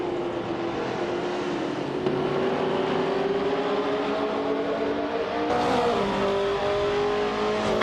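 Racing game car engine, a 1973 ARC-M F16, droning steadily with sustained harmonic tones that climb and shift as it accelerates, loud and continuous with no talking.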